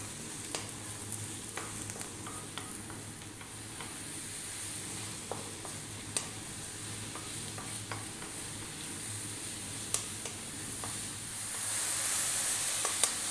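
Steady sizzling of mushrooms frying in a pan on very high heat, a continuous soft hiss with occasional clicks and stirring scrapes, growing slightly louder near the end.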